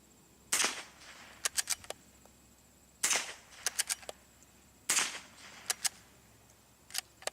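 Unsuppressed .22 rifle firing 60-grain bullets into a dirt berm at a range, three sharp close cracks each followed by a few fainter quick pops of echo, spaced a couple of seconds apart.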